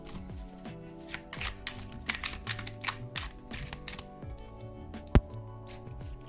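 A Morgan Greer tarot deck being shuffled close up, quick riffling bursts of cards repeating in a steady rhythm, with one sharp tap near the end and no talking.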